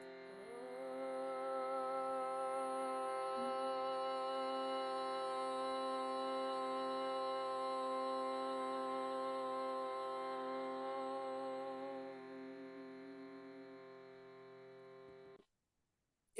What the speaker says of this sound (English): It's called a Shruti box.